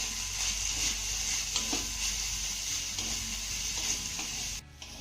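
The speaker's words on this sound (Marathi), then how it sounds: "लो फ्लेमवरती आपल्याला ही गवार मौसूद चांगली वाफवून घ्यायची आहे" Cluster beans cooking in a pan over a low flame give a steady, soft sizzle with faint scraping and stirring, close by and continuous, cutting off abruptly near the end.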